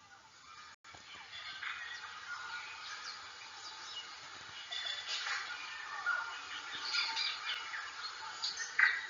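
Dense New Zealand forest ambience with many birds squawking and chirping at once, a busy layered chorus at moderate distance, growing louder toward the end.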